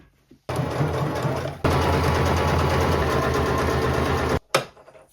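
A domestic sewing machine stitching and gathering thrifted fabric, close and loud, running in two continuous bursts with a short pause between, then stopping with a brief mechanical clunk.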